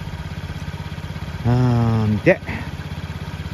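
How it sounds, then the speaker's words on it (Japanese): A Honda Scoopy scooter engine idling with a broken drive belt, a steady low putter with a revving whine rising briefly in the middle, close and loud, with a short spoken word over it. "スクーピーのドライブベルトが切れました。 エンジンはかかりますがタイヤは回りません。"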